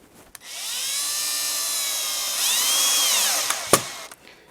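A power drill drives screws into a Telecaster guitar bridge, its motor winding up and whining for about three seconds in a close, loud burst, with a few clicks afterward.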